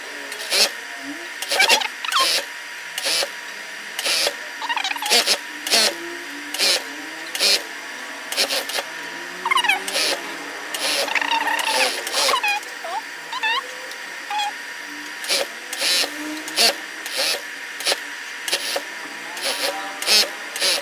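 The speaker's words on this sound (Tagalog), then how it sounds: "Overlock na lang natin yung joining sa upper, tsaka joining sa ruffles." An overlock sewing machine stitches the joining seams of a baby's ruffled dress, running in quick, regular bursts of mechanical whirring. A voice talks quietly underneath.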